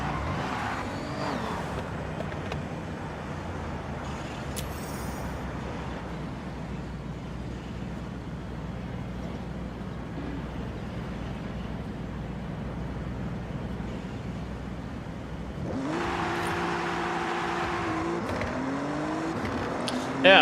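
Alfa Romeo car driving in a Forza Horizon game, with a steady engine drone throughout and a louder, rising engine note near the end.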